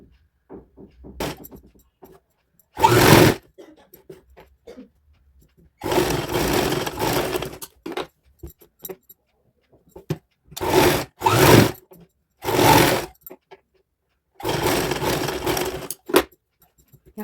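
An electric sewing machine stitches the crotch seam of a kids' palazzo in short bursts, several separate runs of whirring separated by quiet pauses, close and loud.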